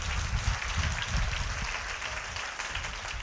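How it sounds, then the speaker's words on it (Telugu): A church congregation at a Good Friday service claps loudly, a dense, fairly close patter of many hands that continues steadily throughout. "ఇప్పుడు గట్టిగా చప్పట్లు కొట్టి దేవుని కనపరచాలి"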